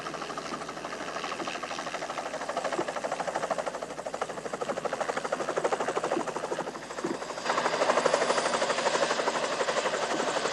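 A helicopter used to capture bighorn sheep with a tangle net thumps overhead, its rapid rotor chop steady and fairly close, growing a little louder near the end.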